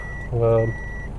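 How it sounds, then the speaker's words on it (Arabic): Reversing beeps from a 2016 Daihatsu Grand Terios, a single loud electronic tone heard close, with a steady hum continuing before and after. "سامعين الصوت تيت تيت تيت"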